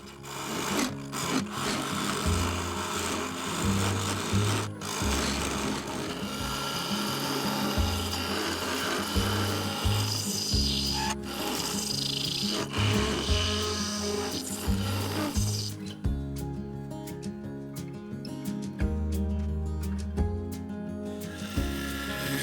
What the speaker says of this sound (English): I used a large carbide cutter with a negative rate scraper to begin blending the base into the